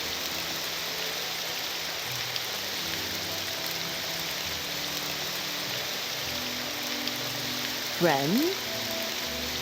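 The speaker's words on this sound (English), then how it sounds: "Ooh, the rain came back." Steady rain falls in the game Morrowind, a constant dense hiss throughout, with a single short spoken word near the end.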